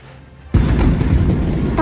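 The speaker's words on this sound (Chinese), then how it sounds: "大年三十晚上，一路都是放烟花的。" Fireworks going off on Chinese New Year's Eve along a road near a town, a loud sustained burst of booming and crackling that starts suddenly and fills the rest of the moment.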